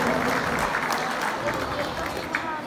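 Applause from a crowd at a school ceremony honoring a telesecundaria director, a steady wash of clapping at moderate volume that continues throughout with faint voices mixed in.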